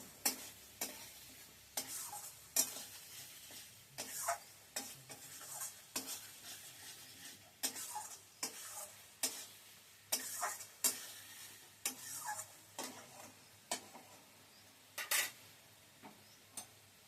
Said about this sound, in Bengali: মশলাটা আরেকটু কষুন